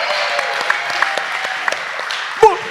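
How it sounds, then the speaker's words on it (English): A studio audience claps for a guest on a recovery talk show, a steady, moderately loud round of applause with one sharper burst near the end. "All right, give Edwin a big round of applause"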